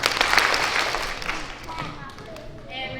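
Children at a school character-education assembly clap along, with a few scattered claps ringing out in a crowded hall while an adult voice speaks over them.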